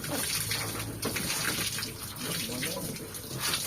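A solar water pump in Sta. Rosa, Nueva Ecija runs while water gushes out in a loud, steady, hissing stream that barely changes, close by and continuous throughout, with no clear voices.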